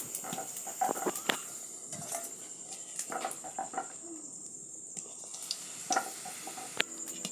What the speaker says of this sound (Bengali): তেলটা গরম হয়ে আসলেই কড়াইয়ের মধ্যে দিয়ে দিচ্ছি বেলে রাখা লুচিগুলো